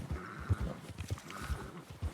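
A horse in Red Dead Redemption 2 snorts and shuffles nearby, with soft low huffs and hoof thuds at an uneven rhythm, fairly quiet and alone.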